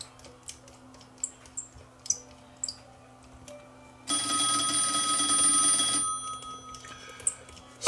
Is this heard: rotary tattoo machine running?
no